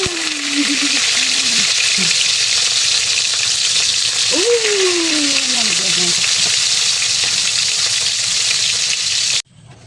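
Onions hit a pan with a little cooking oil for vegetables in coconut milk, making a loud, constant sizzle from start to finish that cuts off abruptly at the end, with a brief gliding vocal tone above it.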